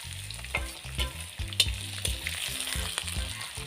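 Steady hot-oil sizzle of onions frying in a pan, with stirring clatters and scrapes, close and fairly loud, no talking.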